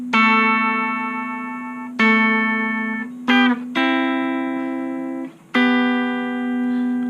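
An electric guitar plays the opening part of a song through effects. Sustained, slightly distorted notes and a quick slide ring out one after another in a slow, even sequence.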